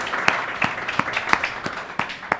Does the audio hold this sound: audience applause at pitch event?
yes